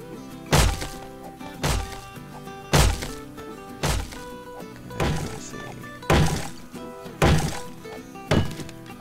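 Repeated heavy thunks of a steel fire axe hacking a hole in the 7 Days to Die game, eight evenly spaced loud strikes about a second apart with no talking.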